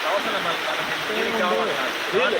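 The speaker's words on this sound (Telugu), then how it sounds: "చేయి పూర్తిగా పైకి కొంచెము బెండ్ చేసి అట్ట పెట్టు నీళ్ళంతా పడతా ఉండే పడాలి మొత్తం" Water pouring down a river waterfall at Kushasthali river, a steady close broadband rush filling the whole moment, with people talking over it.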